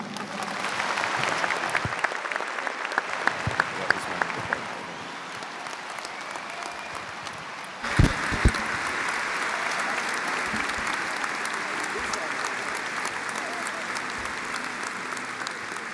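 A large audience at a university undergraduate commencement in Nebraska breaks into sustained applause, dense and even, briefly dipping before swelling again into a long, steady ovation.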